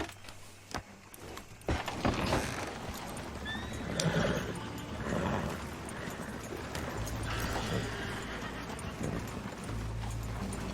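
Horses ridden in Red Dead Redemption 2, with steady clip-clop hoofbeats and a clear neigh partway through, over a rumbling in-game ambience.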